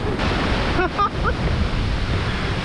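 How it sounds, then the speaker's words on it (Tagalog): Ocean waves roll against the rocky coast at Wuyanjiao in Yilan, Taiwan, as a loud, continuous rushing hiss, with a few brief high chirps cutting through partway. "walang beach, puro alon"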